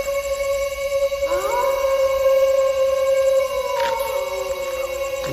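At night, dogs howl in long, drawn-out wavering tones that rise and slide, with overlapping voices from nearby and a faint continuous background hum.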